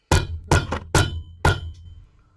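Five sharp hammer taps strike a Loake shoe on a cobbler's last, the second and third in quick succession, then single knocks, with a faint ring after.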